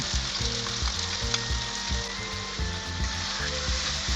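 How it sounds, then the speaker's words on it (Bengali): Masala paste hits softened tomatoes in a hot pan for a village-style mutton curry, setting off a loud, steady close-up sizzle with soft stirring scrapes throughout and no voices. "এবার এর মধ্যে পেস্ট করে রাখা মশলাটা দিয়ে দিলাম।"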